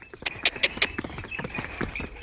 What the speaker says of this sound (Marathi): कसा घोड्यांच्या टापागत आवाज आहे